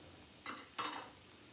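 A spoon stirring chopped raw tomatoes and onions in a pot for a keema-stuffed karela dish, two brief scraping swishes close up with soft sizzling behind, no talk.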